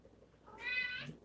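A domestic cat gives a single drawn-out meow, close and fairly clear against a quiet indoor room, rising and then falling over about a second.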